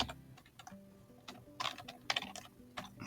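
Soft, intermittent keystrokes on a computer keyboard in small irregular clusters, close but quiet over a faint steady hum, with no voice.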